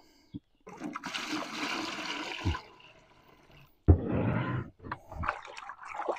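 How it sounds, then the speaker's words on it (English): Water gushes and splashes steadily into a bucket for a couple of seconds, stops, then pours again in a second burst, close and fairly loud. "And I'm going to add enough water."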